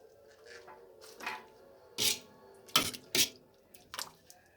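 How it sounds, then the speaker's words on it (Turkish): Aşure, a thick Turkish pudding of mixed grains and fruit, being ladled into serving bowls: a few soft wet plops and clinks of a ladle against bowls, quiet and close, spaced irregularly with near silence between. "Ve şimdi aşuremizi tabaklarımıza dolduruyoruz"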